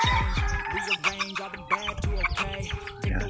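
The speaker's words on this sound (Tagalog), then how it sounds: "So yan po yung manok natin." A fighting rooster and other chickens cluck and squawk up close on a farm, a busy overlapping run of calls with a crow-like cry mixed in and no speech.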